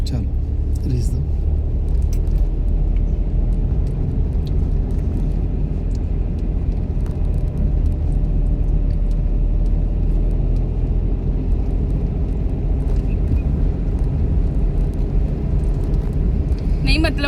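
A car engine in a driving lesson hums as a steady, loud, low rumble for the whole stretch, with no distinct rises in pitch standing out.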